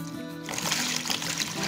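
Cold water, about 3.5 liters, poured into a container as the first step of making homemade perfumed alcohol, a steady splashing trickle that starts after a brief pause and continues evenly.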